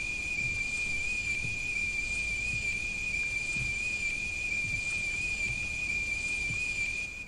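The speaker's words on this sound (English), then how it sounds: "Teapot." A teapot whistling in a horror video game: a single sustained, piercing high whistle held steadily and loudly for several seconds before easing slightly at the end.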